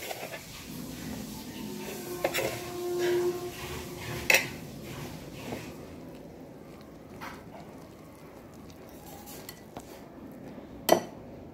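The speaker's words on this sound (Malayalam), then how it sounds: "ക്യാരറ്റും കൂടെ ചേർത്ത് മെല്ലെ ഒന്ന് മിക്സ് ചെയ്ത് നന്നായി യോജിപ്പിച്ചെടുക്കാം" Grated carrot being mixed into cake batter in a bowl for a dates carrot cake, with soft stirring scrapes and a few sharp utensil clinks against the bowl, fairly quiet and close.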